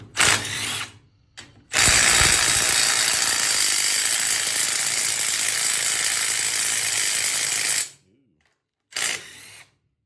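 Ratchet taking apart a Kohler K301 engine, with a short click burst, then a long continuous loud ratcheting whir lasting about six seconds, a pause, and another brief burst, close up.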